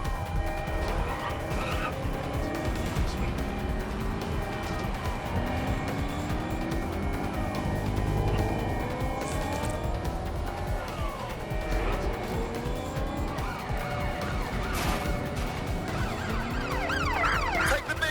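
Car chase in Watch Dogs Legion with a steady engine roar and repeated tire skids, sirens wailing over the top throughout. Voices are faintly mixed in under the driving noise.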